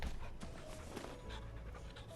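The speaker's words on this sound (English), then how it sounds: "You can pet the dog in Wayfinder." A dog in the video game Wayfinder pants softly in quick, rhythmic breaths, faint and close, with a brief whimper-like sound and no talk.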